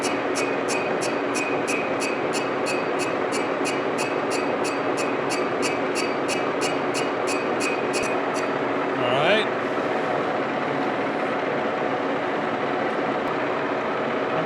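Lathe making a facing cut on a flywheel for a scale model Galloway hit and miss engine, a steady loud machine drone with a rapid regular ticking over it for the first half, then continuous whirring.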